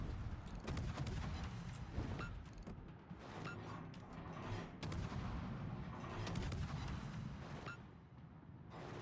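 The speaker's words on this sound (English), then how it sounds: "Japanese destroyers, contrary to popular belief, they do in fact have guns, as you just saw right there" Japanese destroyer guns firing in a naval battle video game, a quiet, dense stretch of repeated booming shots and rumbling bursts layered over continuous battle noise.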